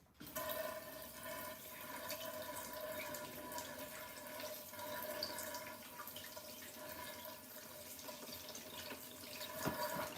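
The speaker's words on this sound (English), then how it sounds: "I'm going to wash my hands." Tap water runs steadily into a sink for hands being washed, a continuous rushing splash at close range with small drips and no talking.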